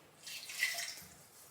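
Cold water pours briefly into dough in a short, splashy stream that swells and then trails off, close by and fairly quiet, with no talking.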